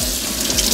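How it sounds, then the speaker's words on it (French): A kitchen tap runs steadily into a sink while dishes are rinsed, a close, continuous rush of water with no talk. "Je vais ouvrir de nouveau le robinet. Je rince."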